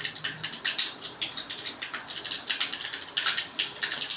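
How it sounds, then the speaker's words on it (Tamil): Mustard seeds spluttering and popping in hot oil for cabbage poriyal, a dense crackle of quick pops, close and fairly faint, with no talking. "பொரியுது சத்தம் கேட்குதா உங்களுக்கு?"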